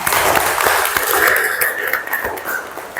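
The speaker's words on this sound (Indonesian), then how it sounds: "Tepuk tangan untuk semuanya" A classroom audience of students applauds during a school lesson: dense, loud, steady clapping that fills the whole moment, with no break.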